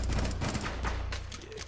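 Rapid gunshots in Rainbow Six Siege, a dense, muffled volley of thuds and cracks at moderate loudness filling the short moment.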